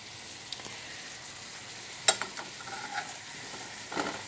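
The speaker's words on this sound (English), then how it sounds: "we're just going to stir this around really gently so that nothing falls out of the pan" Vegetables for vegetable soup sizzling gently in a well-used pan while being stirred with a small spoon, a soft steady fry hiss with occasional light scrapes and taps, close and quiet.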